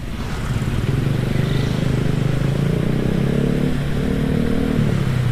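A motorcycle engine running steadily while riding on a large road toward Juanda airport in Surabaya, a loud continuous hum with a rising tone near the end as it pulls forward.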